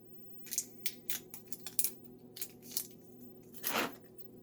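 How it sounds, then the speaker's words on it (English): Plastic packaging crinkles and snaps as it is pulled off a Medicos Super Action Statue figure of Jagi from Fist of the North Star, in a series of short, quiet crackles and rips with one longer tearing rustle. "Let's get all the plastic off of him."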